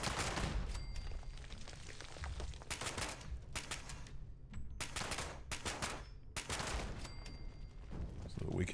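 Bursts of automatic gunfire from a Fallout 76 player shooting turrets, with several sharp volleys spaced a second or so apart over a constant noisy game background, loud and close with no talking.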